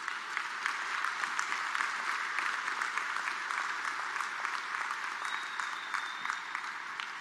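Audience applause at a Fenerbahçe club gathering: a steady, loud wash of many hands clapping that goes on without a break, with a faint crowd murmur underneath.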